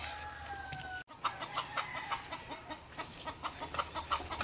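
A chicken clucks in a rhythmic series of short, moderately near calls after a brief crowing-like tone, with faint background noise and no talk.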